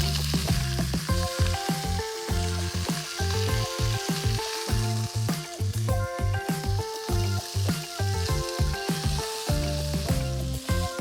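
Speck and sausages sizzle steadily and loudly in a pan, a dense continuous fry with faint crackles, close up and without speech.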